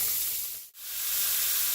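Meat browning in a hot pan gives a loud, close, steady sizzle with one brief dip in the middle as the pieces are stirred, no voices over it.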